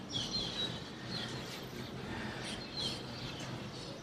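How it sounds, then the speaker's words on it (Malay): Birds chirp near a balcony at sunrise, with faint high tweets and short calls repeating over a soft steady outdoor background, a little distant and without talking. "Korang dengar bunyi burung tak?"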